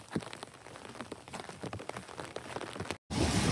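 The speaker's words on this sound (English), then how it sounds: "The rain has really picked up." Rain patters onto an umbrella on a windy stretch of the Pacific Crest Trail, with close, irregular drops over a soft hiss, before a brief cut and a louder rush of noise.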